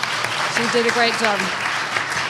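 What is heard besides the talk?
applause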